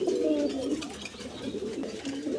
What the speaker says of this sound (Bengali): দর্শক এখানে দেখতে পাচ্ছেন এক জোড়া কবুতর